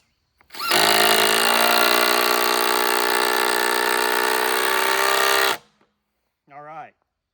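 Cordless impact driver driving a screw, a loud continuous whirring, hammering burst lasting about five seconds and then stopping abruptly, followed by a brief spoken remark.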